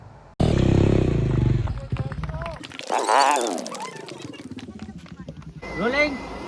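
Motorcycle engine revving loudly during a bike stunt on a film set, with a sharp roaring burst, rising and falling throttle sweeps and clattering noise, while people talk over it.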